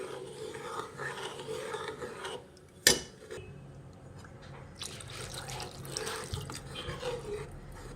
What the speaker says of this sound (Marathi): त्याच्यात आपल्याला पाणी टाकावं लागेल